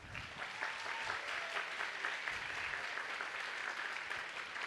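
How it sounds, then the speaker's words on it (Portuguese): An audience applauds the authors at a book fair talk, a continuous even wash of many hands clapping at moderate loudness, with no speech over it. "Queria pedir uma salva de palmas para as autoras."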